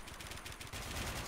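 Shotgun blasts in the online shooter Warmode, rapid dense gunfire bursts that swell louder toward the end, with no talk.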